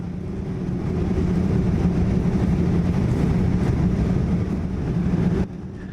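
WestJet Boeing 787-9 cabin on final approach to Calgary runway 35 right, with a steady loud low engine and airflow roar throughout that drops sharply near the end.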